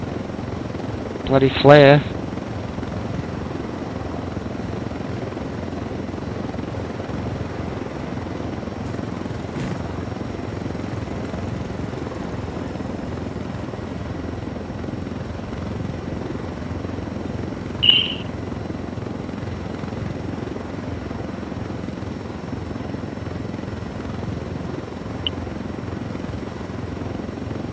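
Helicopter flying in the video game Ghost Recon Wildlands gives a constant close rotor and engine hum throughout, broken by a couple of short sharp bursts, while a player speaks over it.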